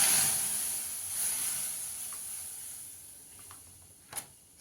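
Milk hits a hot kadai while making suji dudh puli, letting out a sharp hiss and sizzle that gradually fades to a quiet simmer, with a few faint clicks near the end.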